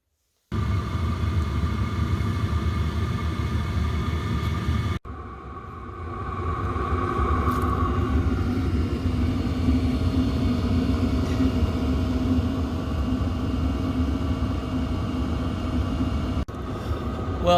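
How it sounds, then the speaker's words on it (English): A portable diesel heater runs inside a camper on a freezing 27-degree day, giving a steady low rumble and drone with a brief dip partway through, alone without talk. "I'm going to fire this heater up, let it run for a while, and see if we can warm it up in here."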